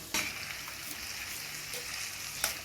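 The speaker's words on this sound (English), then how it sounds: "mixing the curry, mixing the seasoning into the chickpeas until all my chickpeas is coated with curry" Chickpeas being stirred with curry seasoning in a pot, a steady soft sizzle with a few scraping stir strokes, quiet and close, no voices.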